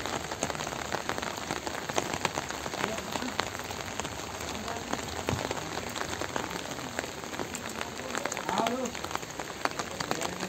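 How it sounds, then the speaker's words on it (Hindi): Steady rain pouring down, with water splashing and dripping continuously across the whole stretch, dense and fairly close. "मौसम बड़ा अच्छा है, बारिश रुक नहीं रही है।"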